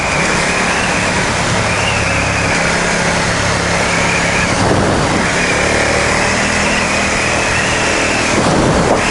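Loud, steady engine drone of a Ducati XDiavel S motorcycle on a test ride, running low in the rev range of a gear with a slight shudder, wind noise and rising revs near the end.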